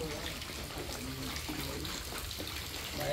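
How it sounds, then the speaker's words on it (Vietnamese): Steady rain pattering down on a rainy morning in Vietnam, an even, continuous hiss of drops at moderate volume with no pauses. "Trời vẫn mưa tí tách"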